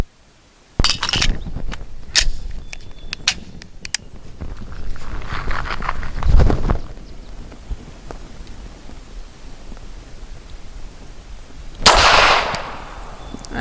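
A Grand Power K100D pistol fires Remington Ultimate Defense 147 grain brass jacketed hollow points at a range, sharp cracks in a quick string, a louder pair mid-clip, then one final loud shot.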